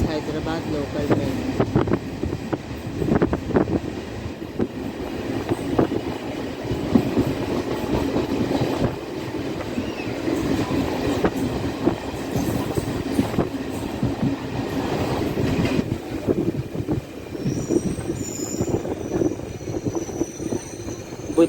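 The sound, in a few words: Hyderabad local DEMU train running on rails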